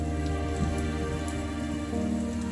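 Dense, constant rain pours down in Dumaguete, the first rain after a long summer, with an even hiss beneath a steady low hum.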